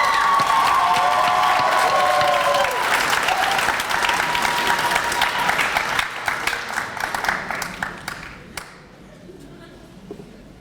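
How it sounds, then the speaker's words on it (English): A crowd at a high school commencement ceremony bursts into loud applause with some cheering, the clapping thinning into scattered claps before fading away. "please join me with a round of applause for Nathan Cummings"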